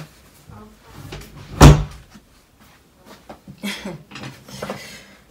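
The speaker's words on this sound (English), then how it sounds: "Hold on, let me close my door, y'all." A room door indoors is pushed shut with one sharp, close thump, followed by faint rustling and light handling noises in a quiet room.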